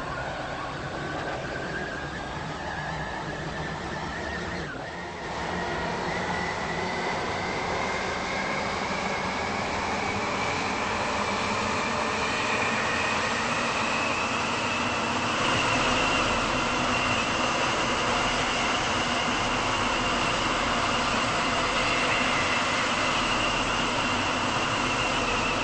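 A passenger train on a waterline service runs toward Greenslade, its steady broadband rumble and rail roar continuous and fairly loud throughout, with no talking over it.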